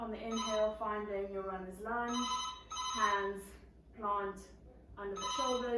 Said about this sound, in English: I'm so sorry for the phone ringing.